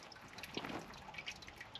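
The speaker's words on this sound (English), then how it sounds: "there's definitely running water down there" Hill water trickles and drips faintly beneath rocks in the Campsie Fells, a soft, steady gurgle with small irregular plinks, distant and alone.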